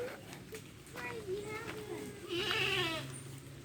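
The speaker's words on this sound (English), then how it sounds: "The goats are fine." Goats bleat on a Jamaican farm after a storm, a few wavering cries close by, the loudest near the end, over windy outdoor background noise.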